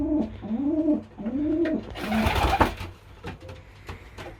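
Older homing pigeons in a loft give several close, rolling coos, followed by a burst of rustling and flapping with softer calls.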